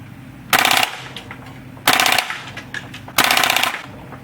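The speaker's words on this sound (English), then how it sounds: "get some full auto in. I'm just gonna go in bursts." A WE G39, a G36C-style airsoft gas blowback rifle, fires three sharp full-auto bursts, each a rapid rattling string of shots roughly half a second long, separated by short pauses with faint clicks between them.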